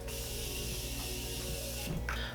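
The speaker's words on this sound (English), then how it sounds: "I'm gonna spray and set." Makeup setting spray misted onto a face, a steady close hiss held for about two seconds that cuts off near the end.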